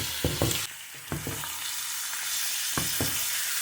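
Spiced mutton liver frying on a tawa while a spoon stirs it, steady close sizzle broken by several sharp metallic scrapes and clanks of the spoon against the pan.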